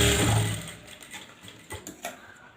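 A sewing machine stitches tucks on the back of a 14.5-inch blouse, a close mechanical whir that runs steadily, then breaks into a few short bursts as the stitching slows and stops.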